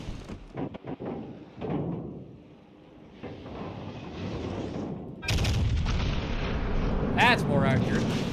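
Naval guns firing shells in World of Warships Legends, heavy booming blasts and rumbling impacts with a loud sustained salvo in the second half, under occasional voice.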